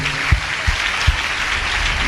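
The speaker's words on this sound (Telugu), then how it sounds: "ఫాదర్స్ అందరికి ఒకసారి మనస్ఫూర్తిగా చప్పట్లు కొడుతూ" Church congregation clapping for fathers at a Father's Day service, a steady dense patter of applause over about two seconds.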